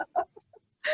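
Roosters clucking and calling in short bursts, close and fairly loud, with a stronger squawking call at the end.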